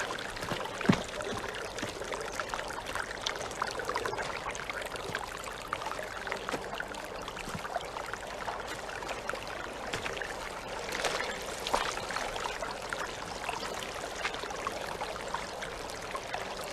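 Water gushes and trickles from a pipe that has come loose in a field, a quiet, continuous splashing flow heard alone at moderate distance for the whole stretch, with a couple of faint knocks.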